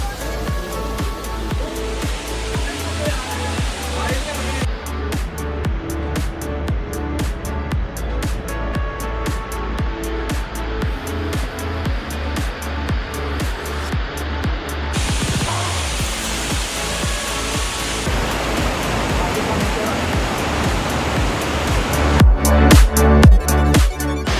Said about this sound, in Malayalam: ഈ കാണുന്നതാണ് വെള്ളച്ചാട്ടം.